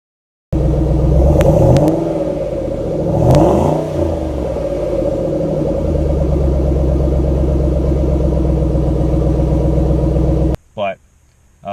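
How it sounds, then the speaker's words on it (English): A 2011 Shelby GT500 idles with a deep, steady rumble, its throttle blipped a couple of times early on into short loud revs before settling, then cutting off abruptly near the end as a voice begins. "wanted me to blip the throttle a few times so she could take a video for her son"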